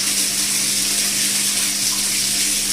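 A washing machine running water gives a steady, fairly loud rushing hiss with a faint constant hum beneath, unbroken for the whole stretch.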